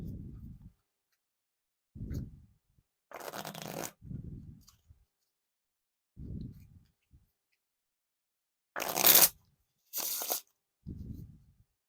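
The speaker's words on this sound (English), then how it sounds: "Now for the riffle shuffle or bridge shuffle." Theory11 Keith Haring playing cards being riffle shuffled and bridged, heard as a few short, crisp ripping bursts of cards interleaving, close and alone, separated by softer handling rustles and pauses.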